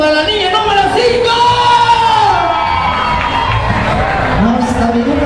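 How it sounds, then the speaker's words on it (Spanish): An audience at a contestant show in Cancun cheers and applauds for contestant number 5, with loud crowd shouting, whoops and voices, plus sustained noisy clapping throughout. "¡Aplauso para la línea número 5!"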